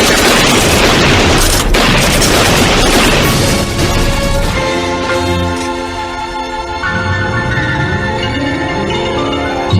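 Loud gunfire bursts in a Filipino radio drama, a dense crashing volley of shots and booms that fills the first half, then thins into ringing, rumbling echoes.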